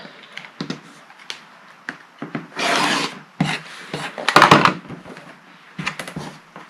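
Quilt block fabric is trimmed down to size, about eight and a quarter inches square, in short raspy cutting strokes, with one longer scrape partway through, close and fairly quiet with no talking.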